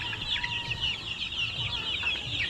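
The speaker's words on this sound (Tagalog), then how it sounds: "Ito yung mga ating mga munting alagang sisiw." One-month-old chicks chirp continuously in high, overlapping peeps, with some lower clucking from nearby fowl beneath.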